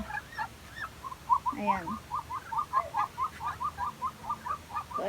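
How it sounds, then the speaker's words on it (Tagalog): Muscovy ducks of a local breed in a backyard flock give a long series of short, rhythmic calls, steady and fairly close, with someone talking over them at the start. "Yan yung mga local breed natin, Muscovy Duck."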